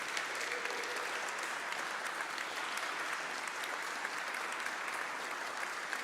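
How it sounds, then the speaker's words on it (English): A concert audience at a Gyorgy Ligeti centennial celebration applauds the singers and performers as they rise, a dense, steady roar of many hands clapping that holds even and loud throughout with no talk over it. "may I ask at this moment all the performers to rise for another round of applause"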